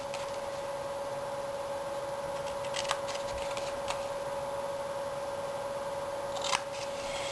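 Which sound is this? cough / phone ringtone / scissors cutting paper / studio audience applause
scissors cutting paper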